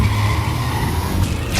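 A car races away close by with a steady loud engine roar and a long tire screech, the squeal rising sharply near the end.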